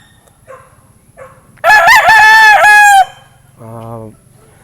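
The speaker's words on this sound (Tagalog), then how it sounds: "yung nahiram ko na broodcock" A Boston Roundhead broodcock gives one loud, close cock-a-doodle-doo crow, preceded by a few faint clucks and followed by a shorter, softer call from another bird.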